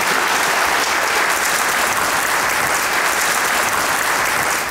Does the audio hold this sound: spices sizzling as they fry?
no